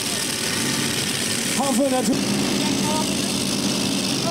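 Tractor-pulling competition engines, 1300 hp methanol-fuelled 8.9-litre motors, four mounted on one puller in the 3.5 t free class, drone loudly and steadily under continuous German commentary over a public address.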